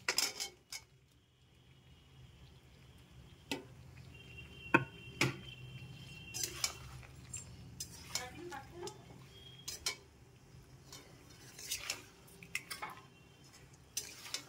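Fried prawns being stirred into a yogurt and chilli masala in a pan, with repeated spoon scrapes and clanks against the metal over a low sizzle, close and intermittent.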